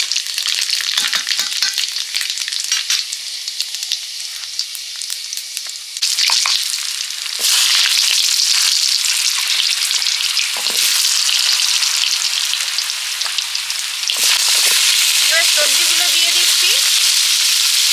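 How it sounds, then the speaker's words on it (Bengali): Bay leaf, dried chillies and panch phoron spitting and frying in hot oil as khichuri cooking begins, a loud, crackling sizzle that surges in bursts as spices hit the oil, with occasional clinks and scrapes from stirring. "এবারে খিচুড়িটা রান্না করব তেল দিয়ে তেজপাতা শুকনো লঙ্কা দিয়েছি পাঁচ ফোড়ন"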